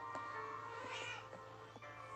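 A cat lying outdoors gives a quiet, brief meow, faint and partly buried in steady background hum.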